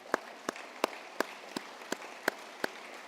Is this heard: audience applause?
yes